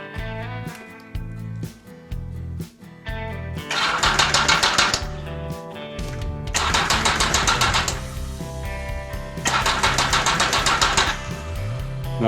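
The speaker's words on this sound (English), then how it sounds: "Going to try and start it and see if it was just a head gasket." A Yamaha XS1100 cafe racer motorcycle engine, rebuilt with a big bore kit, performance head and new head gasket, is cranked by its starter in three drawn-out whirring bursts with pauses between. It sounds fairly close and never catches to run.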